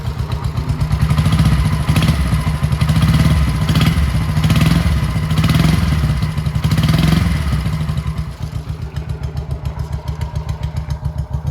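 A 1969 Honda CB 350 Police motorcycle in excellent condition idles close by with a loud, steady, rapid exhaust pulse, swelling in a few gentle revs before settling back to a stable idle, with no talking.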